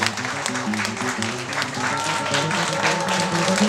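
Wedding guests in Sydney applaud the newly married couple, a dense, steady clapping from a close crowd with voices mixed in.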